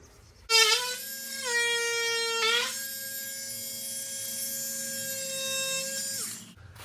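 A power tool trims new garage door stop moulding, giving a loud sustained whine that starts abruptly, shifts pitch partway through and then holds steady for several seconds before cutting off.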